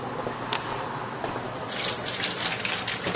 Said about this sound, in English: Now I'm gonna put the wort into a sanitized fermenting bucket.